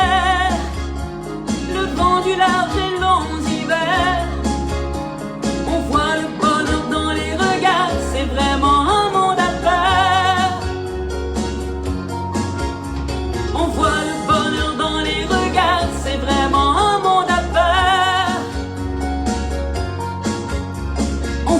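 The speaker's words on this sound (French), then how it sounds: "ce que vous entendez, c'est un peu de la musique style acadienne" Acadian-style folk music plays steadily with a driving beat and bright melodic instruments, full and continuous, without talk.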